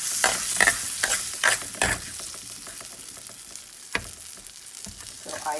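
Moong dal frying in butter in a pan, a soft sizzle under repeated scraping strokes of a spoon or spatula as it is stirred, close by and with no voices.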